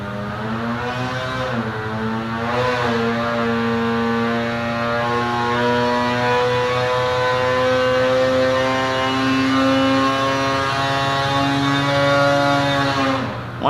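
A Polaris 850 Axys snowmobile engine with Stage 1 tuning on factory ECU programming runs on a dyno, a loud, steady, buzzing two-stroke drone that climbs slowly in pitch and holds near full throttle.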